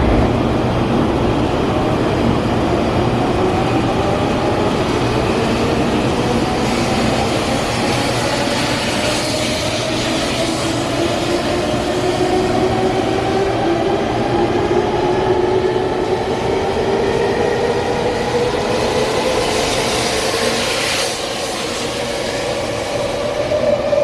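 Continuous rumble of a train on Taiwan's Neiwan Line rolling along rails, with a rising whine and faint rhythmic rattling heard from inside the carriage.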